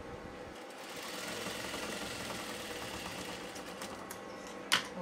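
A tailor's sewing machine runs steadily while stitching a blouse, a continuous mechanical whir with a sharp click or clunk near the end.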